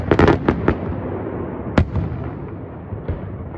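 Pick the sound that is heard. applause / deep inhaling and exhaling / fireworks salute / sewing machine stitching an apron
fireworks salute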